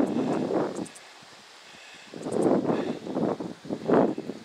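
Gusty wind on a hilltop in the Arizona desert buffets the microphone in loud surges with a brief lull in between, a rough rushing roar rising and falling.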